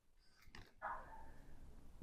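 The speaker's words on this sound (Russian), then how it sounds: "Собака гавкает" A dog gives a single faint bark from some distance, preceded by a few quiet yips, in an otherwise hushed workshop.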